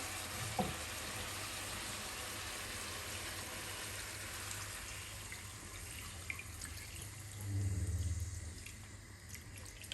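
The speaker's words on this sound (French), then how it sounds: "Et maintenant, je vais venir ajouter de l'eau." Water pouring into a pot of smoked cartilage simmering in peanut broth, a steady sizzling, bubbling wash throughout with a louder gush of water near the end.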